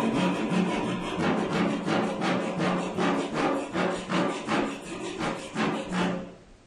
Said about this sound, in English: so that's a Japanese handsaw.